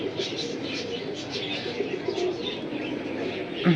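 Pigeons held by a seller, including a pair with eggs, coo softly and steadily at close range over a low background murmur.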